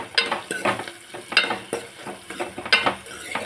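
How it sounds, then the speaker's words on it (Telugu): Onions and green chillies fry in a pan, and a close sizzle is broken by rhythmic stirring scrapes, roughly one stroke every half second. "ఇది వేగాలి, మగ్గాలి."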